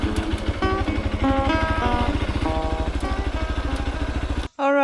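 A motorcycle engine runs close and steady as the rider parks it, a throbbing low idle with pulsing rhythm that continues throughout before cutting off abruptly near the end, followed by a brief tonal sound.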